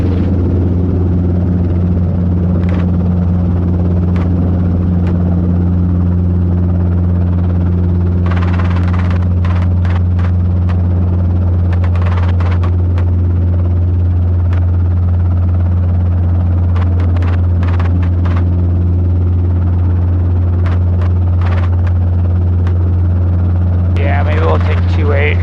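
An R22 helicopter in flight during a training lesson gives off a constant low rotor and engine drone with a steady tonal hum, loud and unbroken, while intermittent radio chatter and cockpit voices come and go over it.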